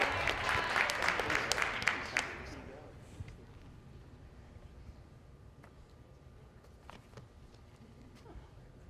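A keynote audience gives a short round of clapping that fades out after about two seconds, leaving a quiet room with faint scattered noises.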